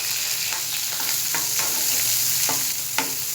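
Chopped onions fry with fennel and curry leaves in a pan, giving a loud, steady sizzle broken by a few sharp spoon scrapes and stirring clicks.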